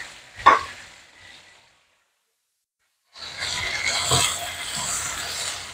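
Mushrooms frying in a pan with barbecue sauce, cooked alongside chicken: a sharp sizzle burst that fades into silence, then a steady loud hiss of frying with a crackling peak.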